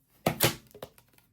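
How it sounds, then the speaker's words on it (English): A hard plastic PSA graded card slab being cracked open, giving two sharp close snaps in quick succession followed by a few lighter clicks and taps as the case comes apart, with no talk. "May need to crack that baby out of here."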